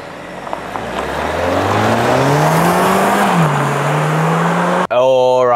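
A 2024 MG5 car engine revs up and accelerates away, its pitch climbing steadily and loud, with a brief cut near the end.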